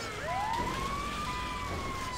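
An ambulance siren in the video game GTA 5 wails in a steady rising and sustained tone, loud and continuous with no talking over it.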